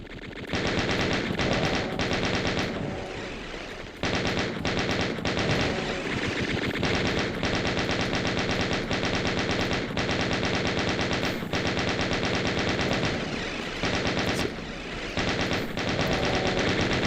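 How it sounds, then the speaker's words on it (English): Chain gun firing in Doom II, long loud bursts of rapid-fire shots rattling almost nonstop, broken by a few brief pauses between sustained streams of gunfire. "So let's use the chain gun."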